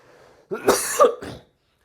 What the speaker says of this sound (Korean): 기침 한번 하고 갈게